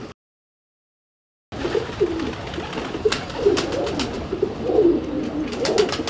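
Imamdeen pigeons coo in a loft, a low bubbling call repeating steadily over rustling and background noise after a brief silent start.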